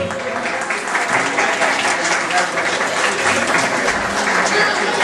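Dense, sustained applause from an audience at a Christmas program, loud and steady throughout with no pauses, a continuous wash of many hands clapping together.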